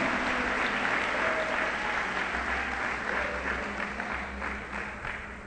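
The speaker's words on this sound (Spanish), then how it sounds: "Dale la ofrenda al Señor, hermano, de aplauso." A church congregation at a Nicaraguan vigil service claps as an offering of praise, a broad sustained wash of applause with a low hum underneath that eases slightly toward the end.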